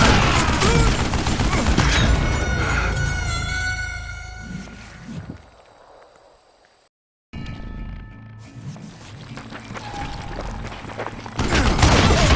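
Gunfire and dense game action from Call of Juarez: Gunslinger on Nintendo Switch, with loud, busy bursts that drop away to a brief silence midway, then pick back up and build again toward the end.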